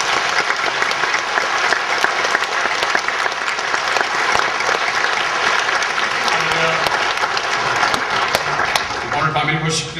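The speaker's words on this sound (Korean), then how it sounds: "우리 환영의 박수 한번 드리겠습니다" A church congregation gives a long, dense round of applause to welcome a visiting pastor and hymn composer. Loud, steady clapping fills the whole stretch and fades slightly at the very end.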